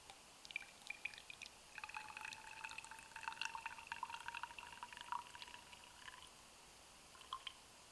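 Water pushed through a syringe filter into a sample bottle, faint trickling and dripping with small splashy ticks over about six seconds, close and quiet with no talk.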